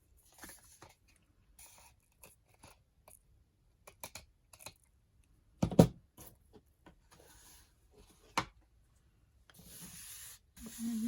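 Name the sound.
trimming excess paper for a journal cover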